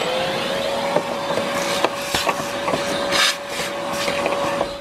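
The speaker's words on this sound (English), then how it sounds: "let's start vacuuming just to get rid of all of the leaves" Vacuum cleaner sucking dead leaves out of a BMW 7 Series engine bay, a steady close whine with a constant drone and scattered rattles and clicks as debris is pulled in.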